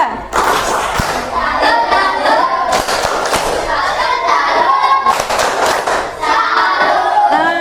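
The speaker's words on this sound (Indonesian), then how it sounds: "berikan tepuk salut untuk kelompok 3" Classroom applause for a student group, with bursts of clapping hands and a few sharp thumps rising and falling over about seven seconds, a sustained patter of many hands close by and faint voices underneath.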